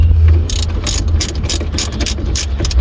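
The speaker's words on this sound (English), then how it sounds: "Okay, so tighten that one," A ratchet fitted with a 10 mm socket tightens a battery terminal on a Jaguar XE, giving a run of quick, close metallic clicks in short bursts with no talk.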